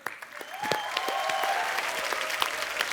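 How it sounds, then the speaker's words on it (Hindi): Studio audience on The Kapil Sharma Show comedy program gives loud, sustained applause, dense clapping and cheering that swells and holds for several seconds, with a voice faintly heard over it. "शिल्पा और राज पाजी के लिए जोरदार तालियां"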